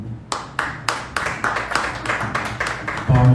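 Scattered handclaps from a conference audience, sharp and uneven at first, then settling into a steady, light round of applause in a room with a low background hum; a voice begins just at the end.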